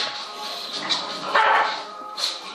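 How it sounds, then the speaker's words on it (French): Female dogs playing in a home kitchen, letting out short yips and a couple of louder barks and whimpers over a steady background hiss, fairly close. "Désolée pour le bruit, en fait, c'est mes chiennes,"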